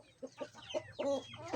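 Backyard chickens let loose to forage on grass give a run of short, close clucks in an uneven rhythm, several separate calls rising and falling with no one talking.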